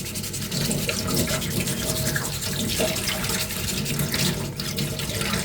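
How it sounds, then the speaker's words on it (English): Waterproof sandpaper scrubs cosplay finger armour underwater, a close, continuous wet rasping and sloshing with rapid back-and-forth strokes and water movement throughout. "you can see I'm doing this underwater. And I'm using waterproof sandpaper."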